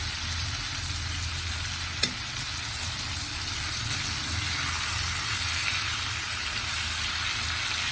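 Pieces of boneless spicy chicken fry in ghee with a constant, close crackling sizzle over a low stove hum, broken once by a sharp clink; no one speaks.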